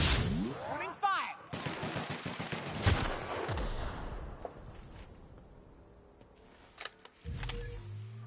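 Gunfire in The Outer Worlds rings out in scattered sharp shots and a short burst, followed by fading echoes and quieter stretches, with a louder rattle near the end.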